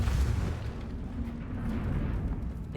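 Confringo fire spell from Hogwarts Legacy erupting in a dull, sustained rumbling blast, loud and close with a heavy low roar that holds steady throughout.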